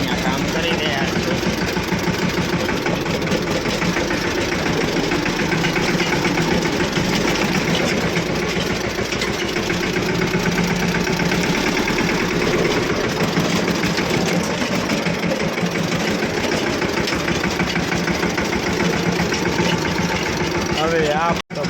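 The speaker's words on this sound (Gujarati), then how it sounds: "ત્યાંથી તો આપણે ટ્રેક્ટર કાઢી નાખ્યું સરળતાથી" A tractor engine chugs continuously and fairly close, pulled free after its front bumper had struck something, a steady rough drone with a slight knocking, voices talking over it.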